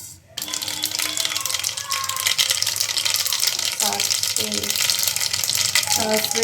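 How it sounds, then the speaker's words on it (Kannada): Oil heating with mustard seeds added for tempering, a bright steady sizzle with crackling pops, close and fairly loud, with a few brief tonal clatters from utensils. "ಈಗ ಒಗ್ಗರಣೆಗೆ ಸ್ವಲ್ಪ ಎಣ್ಣೆ ಹಾಕ್ತಾಯಿದ್ದೀನಿ. ಸ್ವಲ್ಪ ಸಾಸಿವೆ"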